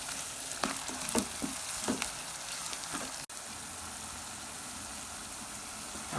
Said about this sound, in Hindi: ऑयल हमारा गर्म हो चुका है। अब हम इसमें प्याज ऐड करेंगे।